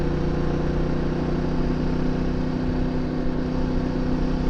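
A CF Moto 450MT motorcycle engine drives steadily out of corners on alpine mountain roads, a loud, continuous mid-pitched drone with constant wind and road rush and no voices.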